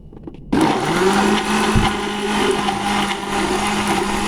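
A kitchen blender grinds spices for cooking, starting abruptly with a loud motor whir that keeps running steadily, its pitch dipping briefly as the blades catch.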